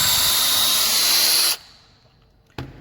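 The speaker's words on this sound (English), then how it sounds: "if it gets to where you're having trouble drilling, run that out, let those wood chips fall out" A power drill bores a bolt hole through the wooden board of a picnic table, running loud and steady for about one and a half seconds, then cutting off, followed by a short burst of renewed drilling near the end.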